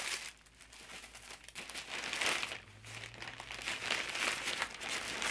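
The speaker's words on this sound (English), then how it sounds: "And I have some tissue paper." Tissue paper crinkles and rustles close by in several bursts, as if being handled for a gift bag, with no talking.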